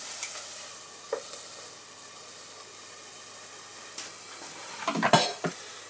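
Sliced mushrooms softening in a hot pan give a steady low sizzle, with a few light utensil scrapes and clinks as they are stirred near the end.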